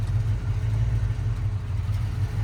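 A 1991 Jeep Grand Wagoneer engine idles roughly and close to stalling, a steady low rumble running close by and alone throughout.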